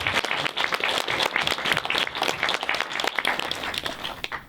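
A crowd applauds at the close of an interview, a dense, even patter of many clapping hands sustained without a break and at moderate level.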